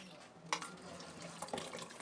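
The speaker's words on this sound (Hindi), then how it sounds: "मैंने कॉर्नफ्लोर में पानी डाल के इसको घोली है, इसमें डालने लगे।" Cornflour slurry poured into a pot of hot and sour chicken soup, a soft liquid splash and trickle with a few small drips, heard over low kitchen background noise.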